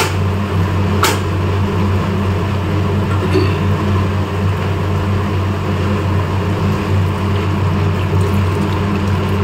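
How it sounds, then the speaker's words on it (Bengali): Hot water pours into a cooking pot of cooked-down spice masala for muri ghonto, a continuous close rushing pour over a low hum. "এবার আমি গরম জলটা দিয়ে দেবো।"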